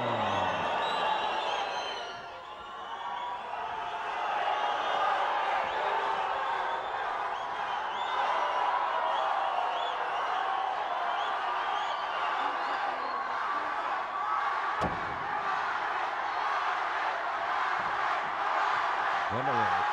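Arena crowd at an AAA lucha libre event roaring and cheering steadily for Dr. Wagner Jr., a sustained wash of voices with a commentator talking over it.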